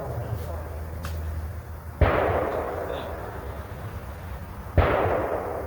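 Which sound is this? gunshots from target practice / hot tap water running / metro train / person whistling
gunshots from target practice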